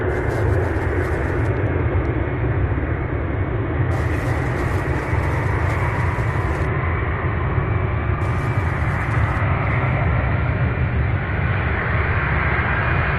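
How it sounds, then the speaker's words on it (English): UPS MD-11 cargo jets take off at Louisville airport during a departure rush, a loud, continuous engine roar that fills the whole stretch, with no talk over it. "Nothing more relaxing than watching these MD-11s take off."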